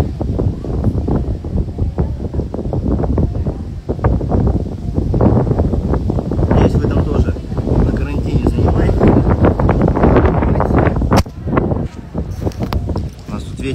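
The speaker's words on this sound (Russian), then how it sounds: "Ветер сегодня сумасшедший" Strong gusty wind buffets the microphone with loud, rumbling roars that swell and ease, with a voice speaking intermittently underneath.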